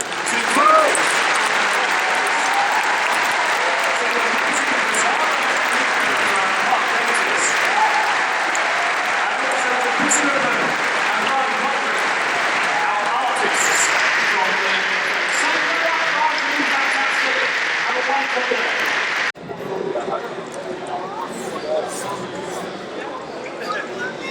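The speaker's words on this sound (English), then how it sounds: "please give a huge round of applause" Sustained applause from a large festival audience at the London Doctor Who Festival 2015, dense clapping filling the hall for about twenty seconds before thinning and quieting toward the end.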